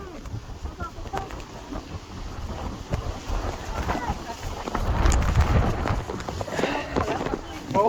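Gusty outdoor wind buffets the microphone with low, rumbling roar that swells stronger toward the middle and end, with faint voices underneath.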